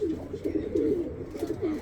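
Andijan pigeons, an Uzbek breed, cooing in soft repeated low warbling phrases, close by and fairly steady, with faint background noise and no talk.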